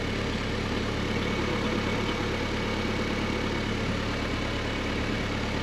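A 1967 Land Rover Series IIA engine idles in a steady, close rumble with a constant low hum and even noise throughout, no voices.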